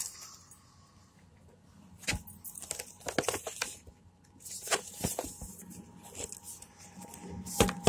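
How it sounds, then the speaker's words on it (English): Apple keyboard being pulled out of its plastic packaging, crisp crinkling and rustling of plastic in scattered bursts, with sharp tearing snaps and quieter handling noises between them, close to the ear. "Let me get the keyboard out of its packaging."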